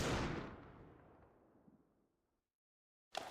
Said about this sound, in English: it's gonna be the no-scope wallbang headshot